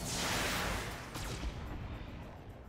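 Mech weapons fire in the BattleTech video game: a faint burst of blasts and whooshes swells, then trails off into a rumbling decay.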